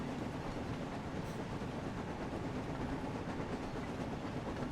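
A train running on rails in a Thomas & Friends video game, a steady loud rumble of wheels with faint clickety-clack, continuous throughout with no talk.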